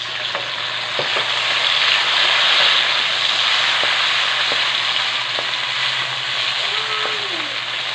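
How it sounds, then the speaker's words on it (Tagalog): Onion, garlic and tomato sauté in a hot pan for pork sinigang, giving a loud continuous sizzle with a few light clicks of stirring. "Manggisa na tayo. Sibuyas at bawang. Tapos kamatis."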